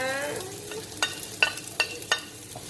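Dried chilies stir-fried for pad krapow in a pan with a little oil, a steady sizzle under four or five crisp, evenly spaced scrapes of a spatula.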